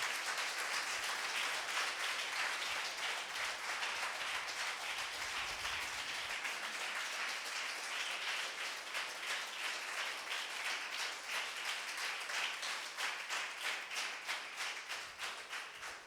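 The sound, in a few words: congregation clapping hands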